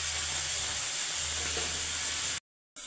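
Fish frying in a hot pan gives a steady, dense sizzle that hisses on unbroken for a few seconds, then cuts out abruptly before resuming.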